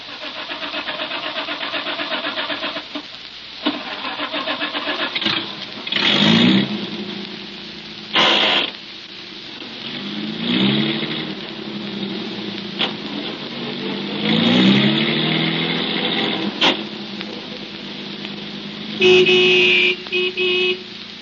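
A 1930s radio-drama sound effect of a car engine cranking and starting, then running and revving as it pulls away, with several loud bursts and a steady mid-pitched engine drone throughout.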